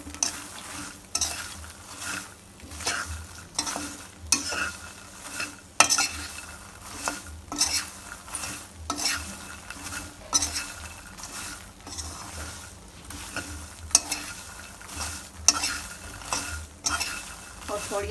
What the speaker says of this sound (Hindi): और थोड़ी देर तक हिलाते हुए इन्हें पकाएंगे।